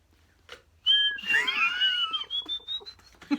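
A person whistles a sliding, wavering melody imitating a guitar solo, fairly close and clear for a couple of seconds, with faint background noise around it.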